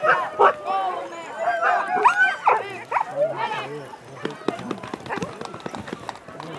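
Sled dog teams at a winter race bark and yip excitedly, close and loud, amid rustling movement, while people talk over the commotion.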